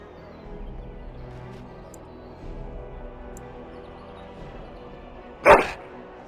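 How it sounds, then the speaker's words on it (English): A dog from the game Dragon Age Origins gives one loud, close bark near the end, after a stretch of low ambient game background. "Puppy!"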